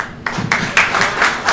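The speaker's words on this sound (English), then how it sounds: "City Council really deserves a round of applause also" A small crowd at a grocery store's grand opening applauds, starting after a brief quiet moment with a run of loud, close, roughly regular claps and no talking.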